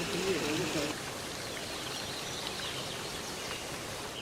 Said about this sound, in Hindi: जहाँ पर आ रहा है गर्म पानी ऊपर से